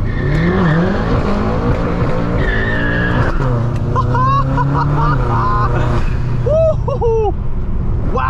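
A tuned 800HP Stage 2 BMW M6 revs hard and shifts through gears, its engine roaring loud and close with tire squeal and rising, falling pitch sweeps, while people talk over it.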